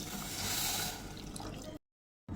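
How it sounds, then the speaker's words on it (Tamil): Tamarind water is poured into a pot of rasam, giving a quiet, steady liquid pour and splash that breaks off abruptly near the end. "அதில் இப்போ கரைச்சி வச்ச புளித்தண்ணியை தண்ணியை சேர்த்துக்கலாம்"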